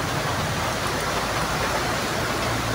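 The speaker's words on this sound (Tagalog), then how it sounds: "At ngayon ay umulan na naman." Steady rain pours down in a provincial setting during typhoon-season weather, a dense, continuous hiss with no gaps and no voices over it.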